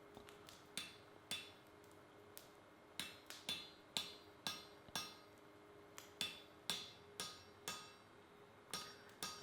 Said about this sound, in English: I will cut halfway through the material with a chisel.